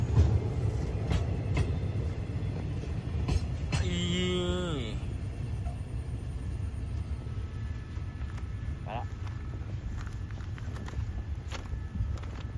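Thai passenger train number 532 pulls out of Bua Yai Junction after rain, a steady rumbling rail roar with a brief rising whistle-like tonal sweep early on and scattered clanks over continuous background noise.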